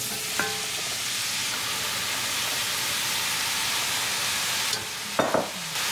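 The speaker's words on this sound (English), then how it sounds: "We're going to mix it well with our desi ghee" Grated carrots cooking in desi ghee (clarified butter) as they are stirred, a steady close sizzling hiss with a few scraping clinks of the spoon near the start and end, no speech.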